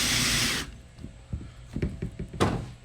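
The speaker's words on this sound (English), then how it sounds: "If you drill into here, you put the screw in" A short, loud burst of a power drill driving a screw into a skeleton prop, followed by a few light knocks and clicks of handling.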